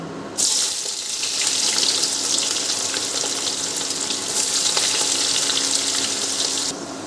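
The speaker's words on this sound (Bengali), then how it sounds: "কড়াইতে আমি সাদা তেল দিয়ে দিয়েছি এবার আমি বেরেস্তাটা ভেজে নেব" Loud, steady sizzling of sliced onions frying in hot white oil in a wok, a continuous hiss that starts abruptly and cuts off near the end.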